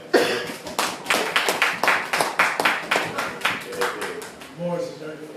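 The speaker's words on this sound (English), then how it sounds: "Y'all give Brother Scott a clap." A church congregation claps for Brother Scott in a steady, rhythmic beat that carries on for several seconds, with a few voices mixed in underneath.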